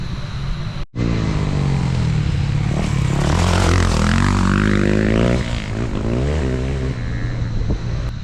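A motocross bike is ridden wide then tight through a corner and on down a steep hill, its engine loud and close, revving and rising and falling with throttle control after a brief dropout.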